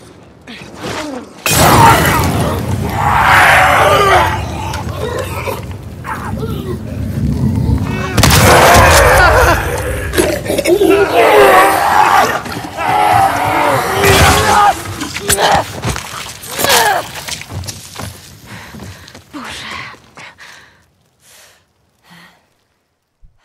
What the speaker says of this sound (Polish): Zabawimy się koktajlem Molotowa.